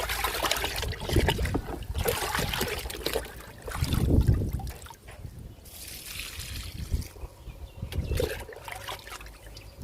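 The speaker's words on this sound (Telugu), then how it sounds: "ఈరోజైతే నేను కిచెన్ వేస్ట్ లిక్విడ్ ఇస్తున్నాను నిమ్మ మొక్కకి" Liquid kitchen-waste fertilizer poured onto a potted lemon plant, splashing and trickling in several uneven gushes that swell and fade, fairly close.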